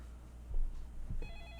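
A telephone ring starts near the end, a short electronic trill over a low rumbling background.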